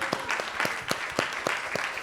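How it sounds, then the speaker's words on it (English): A crowd claps steadily, a warm sustained round of applause with no voices on top. "Give her another round of applause,"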